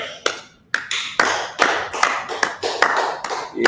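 Steady rhythmic hand claps, about a dozen evenly spaced sharp slaps, close and loud, with no voices over them.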